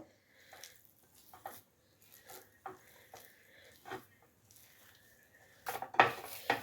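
Spices and ingredients being mixed in a bowl, including ground white pepper and oregano powder: irregular close clinks and scrapes of a utensil against the bowl in short bursts, louder near the end, with no talk.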